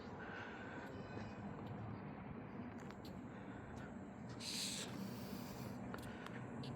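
A train passing a wig wag railroad crossing in Hanford, California, a steady low rumble of rolling rail cars with faint wheel squeals and clanks, heard from nearby outdoors.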